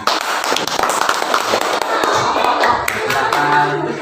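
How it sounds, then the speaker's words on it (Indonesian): A classroom of students claps for a group performance, the irregular, overlapping hand claps sounding close and lively, with voices mixed in. "Ya, bagus. Tepuk tangan."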